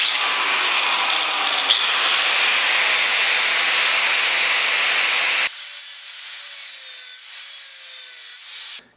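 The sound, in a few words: cutoff wheel cutting a slot in a bolt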